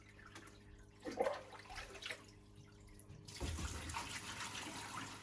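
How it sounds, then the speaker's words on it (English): Aquarium tank water poured onto a filter drip plate during a power outage, a quiet splash early on, then a steady, louder stream of trickling water. "I'm just going to take some water from the tank and disperse it on the filter."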